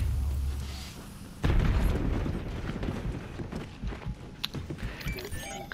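Explosions in the battle royale game Warzone: a sudden heavy boom hits after a quieter stretch, followed by rumbling debris, scattered pops and footstep-like clatter.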